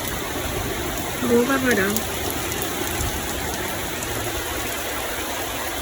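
Heavy rain falls steadily outside a window, a continuous dense hiss with a brief spoken remark partway through.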